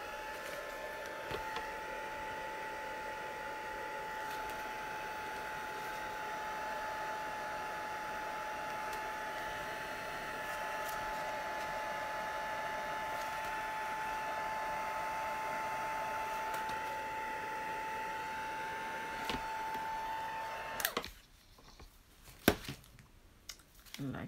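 Heat tool or hair dryer blowing a steady, continuous whoosh while drying paper envelopes, running close and evenly for about twenty seconds before cutting off into faint handling noises.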